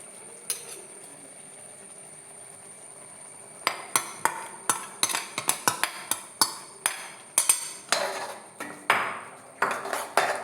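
A spoon stirs a ground coconut and cumin paste into a Kerala-style tomato pulissery curry, making a run of sharp metallic clinks and scrapes against the pot. The strokes are close and rhythmic, with no talking.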